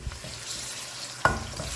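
Ginger garlic paste cubes sizzling in a hot pan, a soft continuous fry with one sharp stir or clatter partway through, close and fairly quiet, no talking.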